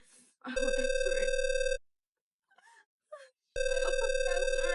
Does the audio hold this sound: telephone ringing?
yes